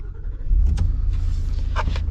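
A 2025 Ford F-350 single-cab pickup with a 7.3-litre V8 cranks and catches, then settles into a deep, steady idle rumble close by, with a couple of faint clicks over it.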